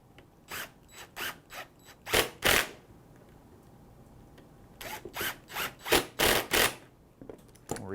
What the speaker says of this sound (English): we'll sink these screws in